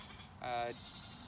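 A sheep gives a single short, nasal bleat during hoof trimming, loud and close, lasting about a third of a second against a low background murmur.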